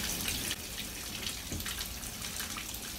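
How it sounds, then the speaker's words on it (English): Water from a tap filling a 4moms infant bath tub, a steady splashing gush with small bubbling variations, close and continuous for a few seconds, no talking. "So the water is filling."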